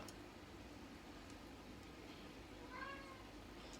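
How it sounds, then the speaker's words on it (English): A domestic cat meows for its dinner indoors, a single rising cry near the end over a steady background hiss. "It's my cat. He wants some food."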